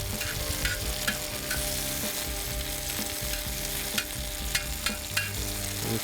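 Onions and peppers sizzle steadily in olive oil on a grill, a continuous close hiss with a few soft scraping clicks and no talking.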